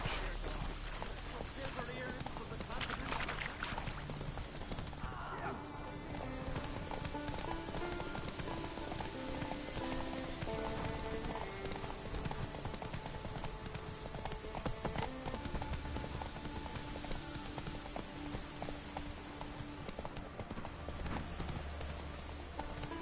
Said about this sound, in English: Whoa there, Roach.